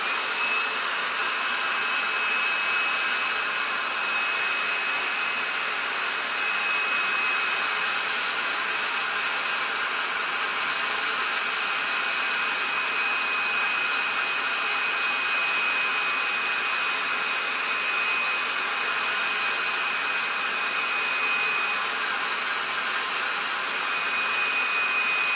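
A hair dryer blows steadily to dry paint on a cotton dish towel, giving a continuous close, loud whooshing roar that holds without a break for the whole stretch, with no talking.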